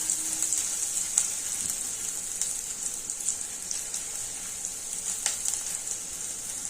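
Onion, garlic and ginger fry in a hot pan with steady, dense crackling sizzle and occasional sharper pops, continuous and close with no talking.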